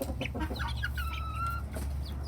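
Backyard chickens cluck and call, among them a small buff Silkie hen crossed with a Serama, with several short close clucks and one drawn-out squawk over a low steady hum.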